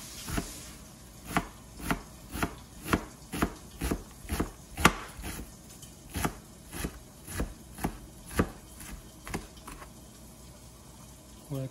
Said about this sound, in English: Onion, we have to make it like really tiny pieces.